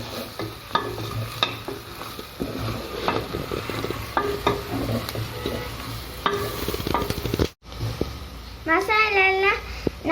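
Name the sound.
masala spices frying and being stirred for beef fry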